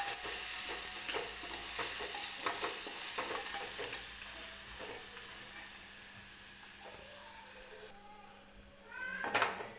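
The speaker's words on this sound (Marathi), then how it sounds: "ते वाटण टाकून घेऊया आणि छान असं मिक्स करून घेऊया हे सगळं वाटण" Ground masala paste with curry leaves being stirred in a frying pan for a spicy chakolya dish, with steady scraping and a soft sizzle throughout, then a quieter stretch and a brief louder clatter near the end.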